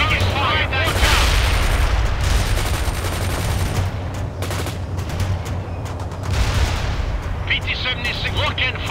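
Missile fire and gunfire in the World in Conflict video game: sustained loud bursts of automatic fire and heavy booming impacts layered with a rumbling battlefield din, with voices talking through it.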